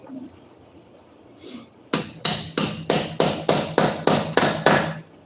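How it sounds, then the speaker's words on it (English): A metal hammer strikes a stuck nut under a vehicle during engine and transmission removal: about ten sharp, ringing blows in a steady rhythm, loud and close, after a few quiet seconds. "Got a hammer."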